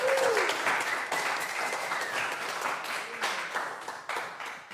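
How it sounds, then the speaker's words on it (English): An audience claps for a band in a hall, a moderately loud round of applause with individual claps audible, gradually thinning toward the end. "if you'd like to clap and express for the band"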